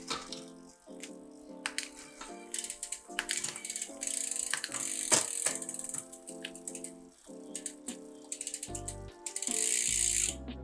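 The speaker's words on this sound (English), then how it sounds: "you can change 2 gears at a time, which is 3 clicks" A Sensah Empire Pro 2x12-speed bicycle shifter clicks through gears in crisp ratcheting bursts, several quick clicks per shift repeated at close range, with faint metallic rattles between them and no voices.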